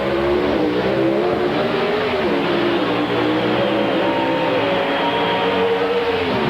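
Drag racing cars roar down the strip at a 1996 NHRA invitational, a loud, continuous engine drone with shifting pitch from start to finish and no talk.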